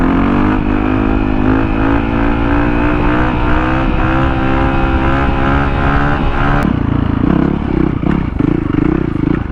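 A motorcycle engine drones and revs loudly up close during wheelies, a sustained throaty roar with rising pitch that drops and shifts abruptly near the end.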